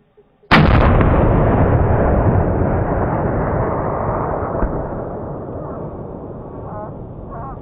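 A single long-range rifle shot from a 300 Ultra firing 230 grain bullets on a warthog hunt: one sudden, very loud blast, then a long rumbling echo that slowly fades across open country.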